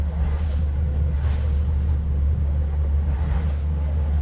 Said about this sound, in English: Your right rear wheel is stuck. It's seized.